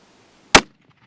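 A single sharp rifle gunshot at a long-range target, sudden and loud with a quick decay into near silence afterward, no voices during the shot.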